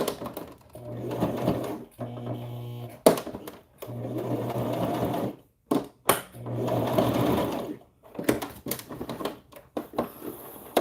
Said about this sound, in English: I'm gonna back stitch because I want to close this one off.